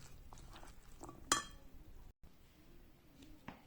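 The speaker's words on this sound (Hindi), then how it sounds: "मिक्स करेंगे।" A spoon stirring chana chaat in a bowl, one bright metallic clink against the dish amid quiet, soft scraping and mixing sounds, close and faint.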